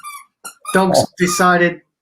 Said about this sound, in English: dogs decided to play with a toy